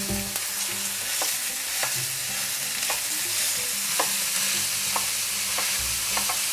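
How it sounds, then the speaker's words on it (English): Coarsely ground beef fries loudly in a pan, a dense continuous sizzle broken by regular scraping clicks of stirring, close and without talk. "Now I'll add 1 pound of coarsely ground beef."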